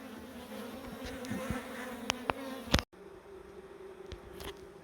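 Swarm of bees buzzing steadily during a large beehive relocation from a lounge-room wall cavity, with a continuous droning hum, a few louder passes of individual bees and a brief dropout near the middle.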